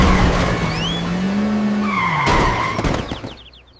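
A taxi speeds off with tires skidding and squealing loudly over a roaring engine, the screech rising and sliding in pitch before the sound fades quickly at the end.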